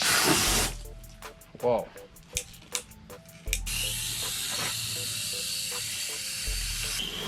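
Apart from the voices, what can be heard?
hose spraying water at a wash pit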